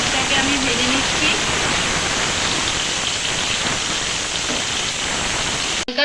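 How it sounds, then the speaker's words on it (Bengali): Chopped onions fry in a pan for chicken roast gravy, a loud, dense, steady sizzle with a hissing crackle that continues unbroken to the end. "দুটো পেঁয়াজ কুচি দিয়ে ভালোভাবে পেঁয়াজটাকে আমি ভেজে নিচ্ছি"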